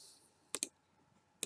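A computer keyboard clicks a few times as someone types in a browser address during a WordPress installation, with two quick close keystrokes followed by a third a moment later against a quiet room.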